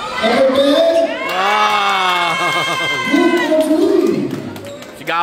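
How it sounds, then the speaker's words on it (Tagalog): Mothers in the stands shout and cheer at a school basketball game at a Caloocan athletic meet, with loud, overlapping, high-pitched voices rising and falling close by for several seconds. "Sigawan yung mga nanay dito."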